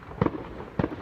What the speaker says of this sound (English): I'm hearing the neighbors shoot off fireworks.